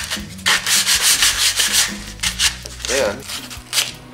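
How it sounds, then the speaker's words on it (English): Sandpaper rubbing along the edges of a wooden lath used for hanging fiber art, a loud, close rasping in quick back-and-forth strokes with brief breaks between passes. "Then, okay, and I just sand each edge."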